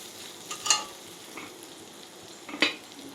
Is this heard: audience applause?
no